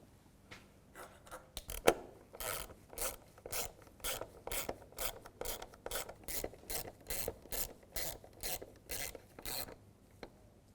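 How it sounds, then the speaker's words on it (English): Two screws being started into a mass airflow sensor on a 2010–2017 Chevy Equinox, a run of quick, evenly spaced ratcheting clicks close by, faint and without speech. "Take the 2 screws, get those both started."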